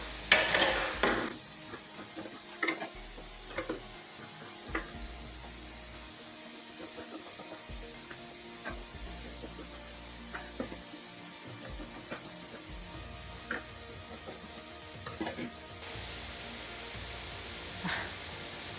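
Scissors cutting blouse fabric during stitching, a long stretch of irregular crisp snips and scraping metal clicks, close and moderately quiet over a steady background hiss, with no speech.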